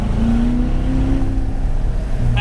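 A 2018 Corvette Grand Sport's naturally aspirated 6.2-liter LT1 V8 holds a steady, deep engine drone with a slight rise in pitch, heard alone without talk.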